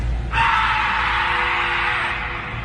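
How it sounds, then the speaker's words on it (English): A scream echoing through trees as a story sound effect, one long sustained shrill cry that starts abruptly and holds steady before slowly fading, loud over a low background rumble. "the scream sounds identical both times it echoes through the trees"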